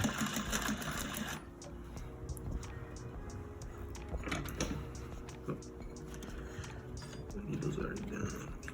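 A sewing machine runs steadily, stitching down a welt pocket in fabric, its rapid mechanical whir continuing through the whole stretch with small clicks, close and moderately loud, while a person talks quietly over it.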